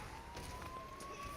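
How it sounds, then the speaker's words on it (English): A wailing siren rises and falls in the background of a video game's audio, faint and steady beneath a low continuous engine-like drone, with no clear talk over it. "Those sirens are in the game."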